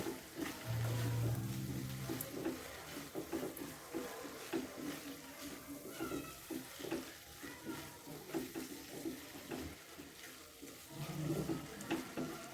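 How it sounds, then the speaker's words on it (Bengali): A spoon stirs sugar into a pui metuli curry with prawns in a pan, giving soft, repeated scraping and a faint wet sizzle, quiet throughout. "এবার আমি এর মধ্যে চিনিটা দিয়ে দেবো, একটু চিনি দিয়ে দেবো। দিয়ে আবার একটু মিশিয়ে নেব।"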